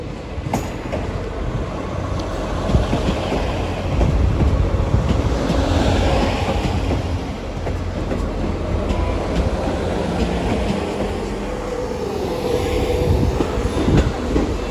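A passenger train runs through Exeter St Davids station on a Saturday morning, a loud sustained rumble of rolling wheels and carriages with faint clickety-clack and squeal, heard alone without voices.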